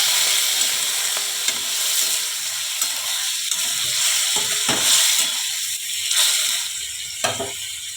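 Okra and potato sizzle in a pan after a splash of water goes in. A steady hiss runs throughout, broken by several sharp spatula scrapes and knocks.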